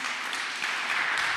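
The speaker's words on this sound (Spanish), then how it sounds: "Dele un aplauso ahí al Señor" A church congregation applauding during a service, a steady wash of many hands clapping together, sustained and moderately loud with no voices over it.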